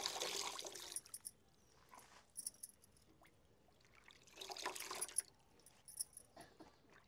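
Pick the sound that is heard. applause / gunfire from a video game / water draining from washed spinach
water draining from washed spinach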